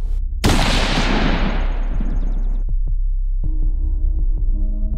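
A heavy blast from a gun in the video game Hatred, a loud burst that decays over about two seconds, then a couple of sharp thumps and a low droning hum; no one speaks.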